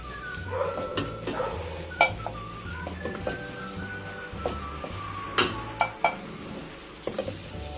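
Cooked sabut masoor dal being served from a pan: a steady low sizzle runs under close spoon scrapes and the clink of metal utensils against the pot.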